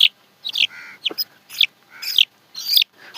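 A young male chicken gives repeated long, drawn-out cries, several calls spread across a few seconds with short gaps, fairly close and clear with no talking.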